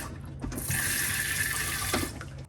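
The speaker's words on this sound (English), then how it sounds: "When you press down halfway, it fills the bowl with water." Steady rushing water fills a 2021 Coachmen Crosstrail 22XG RV toilet bowl, a continuous hissing flow close by with a slight gurgle, no voices.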